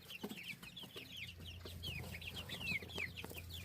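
Backyard chickens cluck softly and chirp in short high calls scattered throughout, with a low steady hum beneath; the flock sounds close but quiet, no talking.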